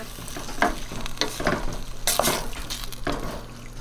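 Crushed tomatoes from a jar cook in a pan for a nonna's pasta sauce, bubbling and sizzling close by while a spoon scrapes and stirs in uneven bursts, with no voices.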